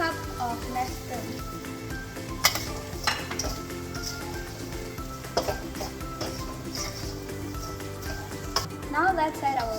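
Prawns sizzle steadily in a pan with Nestum cereal, milk powder added, with occasional sharp clinks of a utensil stirring and scraping against the pan under a continuous frying hiss.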